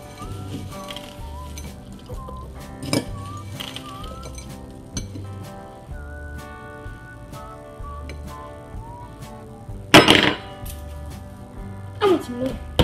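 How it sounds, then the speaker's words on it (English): A spoon clinks against a bowl of Froot Loops cereal in scattered light taps, with a couple of louder clatters near the end, all under steady background sound and a voice speaking. "I get my spoon. Now I eat them."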